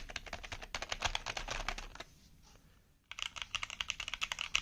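Fingers type on a computer keyboard in quick, close clicking bursts, pause briefly, then resume with a steady rhythm of distinct keystrokes, no voices present.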